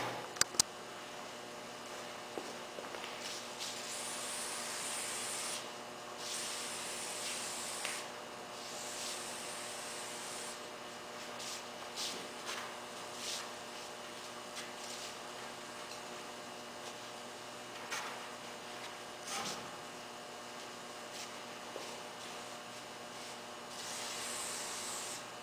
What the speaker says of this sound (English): start spraying the silicone-based spray on the outside extrusions